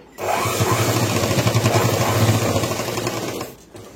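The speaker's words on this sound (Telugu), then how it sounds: "ఈ విధంగా మళ్ళీ ఇంకొకసారి పైనుంచి కూడా ఒక కుట్టి అయితే వేస్తున్నాను" A sewing machine stitches a boys' school uniform pant in one quick, steady burst of rapid needle clatter lasting about three seconds, close by, before stopping.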